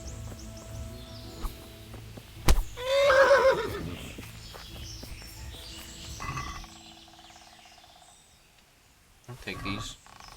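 Horse neighing in the video game Kingdom Come: Deliverance, a single loud whinny amid faint crickets and ambient game sounds, followed by quieter rustling and thumps.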